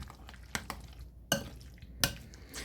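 Pasta salad for a grinder sub being stirred in a bowl with onions: a few sharp scrapes and clinks of the utensil against the bowl, spaced apart at close range, with soft mixing noise between them.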